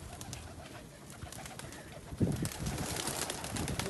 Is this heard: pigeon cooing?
yes